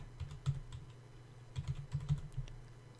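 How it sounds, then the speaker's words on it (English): Console commands for Garry's Mod are typed on a computer keyboard, with clusters of quick, close key clicks separated by a short pause and no talking. "you're going to type in these commands"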